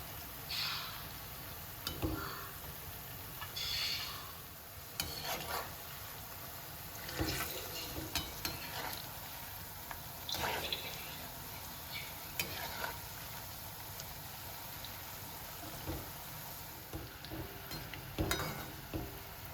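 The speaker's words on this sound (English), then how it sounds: "Stir this from time to time and fry the pieces well." Eggplant pieces fry quietly in hot oil, with a low continuous sizzle broken by repeated scraping stirs every few seconds.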